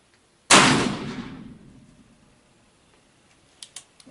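A single sharp blast from a Pietta 1858 Remington black powder revolver, loud and close, with a booming decay that fades over about a second, followed by faint clicks.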